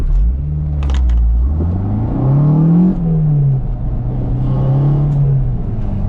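A manual transmission car pulling away hard in first gear: a loud, close engine hum whose pitch climbs as revs rise, then levels off, with no one speaking.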